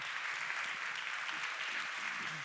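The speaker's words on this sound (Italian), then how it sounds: "prendi tutto l'applauso" An audience claps after a talk, a dense even wash of applause sustained from start to finish at moderate level, with no voices over it.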